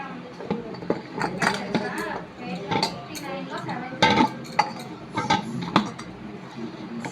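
Soft chapati dough for aloo paratha being kneaded with oil in a bowl, with close clinks and knocks of the bowl and utensils in irregular bursts while a voice talks over it.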